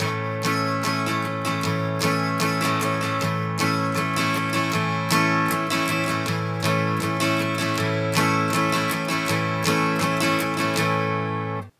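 An electric guitar strums a steady, driving rockabilly rhythm of quick down and up strokes, chords ringing bright and full, played alone up close for several bars.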